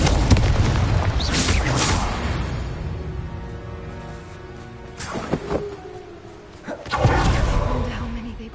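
Incendio fire spells explode in a video game, producing deep booming blasts with whooshing bursts, one heavy explosion at the start and more sharp hits later, loud and close, with a quieter rumbling lull between.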